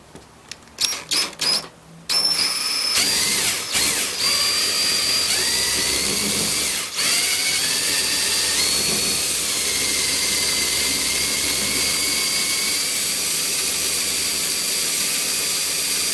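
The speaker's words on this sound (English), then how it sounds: "So I've drilled it all the way down." Power drill boring a hole into a surfboard for a vent plug: a few sharp clicks and taps, then a loud, steady, close whine from the drill with slight shifts in pitch as it works down.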